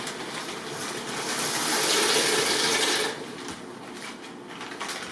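Macaroni noodles pour from a bag into a pot of water in a continuous, close rushing hiss for about three seconds. Quieter, steady background noise follows.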